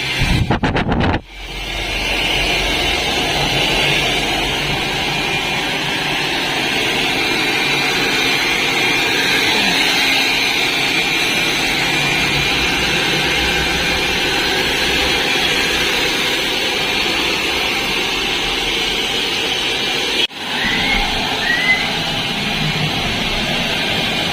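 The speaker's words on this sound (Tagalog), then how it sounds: "Gamit itong ating sandata, yung blower." A hair dryer blows loudly and steadily while drying hair during a home hair rebonding, a continuous airy roar that cuts out twice for a moment and starts again.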